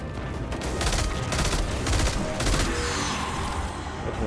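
Three-round burst rifle fire in Destiny 2 sounds as rapid bursts of loud, close gunshots repeating steadily, dense and cracking, then easing into a softer rumble toward the end, with no talk.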